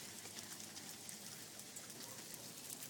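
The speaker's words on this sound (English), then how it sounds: "oh, it's hailing outside!" Hail falls steadily outdoors as a dense, even patter of small hard hits, with a few sharper ticks standing out, all fairly faint and without voices.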